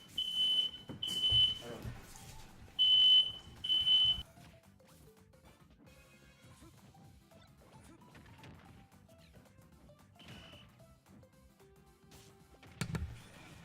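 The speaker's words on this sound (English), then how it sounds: "The reason why the fire alarm goes off so much is because they set it up to very sensitive." Smoke-detector fire alarm going off in loud, shrill piercing bursts, several in quick succession at the start and a shorter one later, over a quiet room background.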